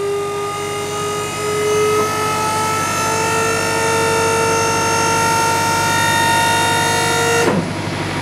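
Hydraulic pump on an Iron Bull dump trailer raising its bed, a loud, steady whine with a slowly shifting pitch that runs for about seven seconds and then cuts off abruptly.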